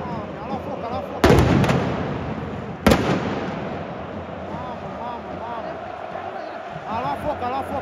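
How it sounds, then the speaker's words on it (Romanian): Fireworks burst inside a packed football stadium during the FCSB vs Rapid Bucharest derby: two loud, sharp blasts ring out over a constant roaring crowd, with chanting and voices throughout. "artificii în interiorul stadionului"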